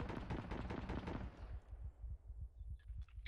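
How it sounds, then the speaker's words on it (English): Heavy .50 caliber machine gun fire in the Arma 3 video game, a dense rapid burst of loud booming shots at first, then continuing as steadier, more distant thumping rounds with no talk. "We are behind a building taking heavy 50 cal fire, and we think sporadic small arms fire from around us."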